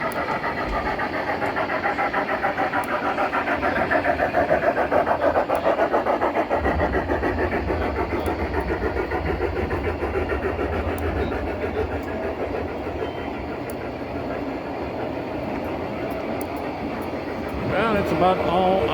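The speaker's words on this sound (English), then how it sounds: "I can't pass up a train coming by." A train rumbles past close by, a long steady roar of engine and rolling wheels with faint rhythmic clatter lasting the whole stretch.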